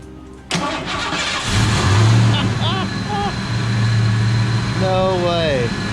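A Ford Mustang that sat unused for about ten years cranks and fires up, then settles into a loud, steady running rumble close by. Excited voices talk over it.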